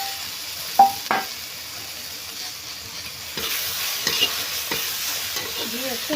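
Chopped tomatoes fry in a pan with a steady soft sizzle, while a spatula stirs and scrapes through them in a few distinct strokes and light clinks.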